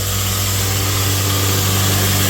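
An electric grain crusher running on a 220-volt motor gives a loud, steady mechanical hum and drone with constant vibration, close by and unbroken.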